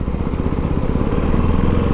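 A red Ducati Hypermotard 698 Mono single-cylinder motorcycle engine runs close by with a steady, throbbing, low rumble and no talking.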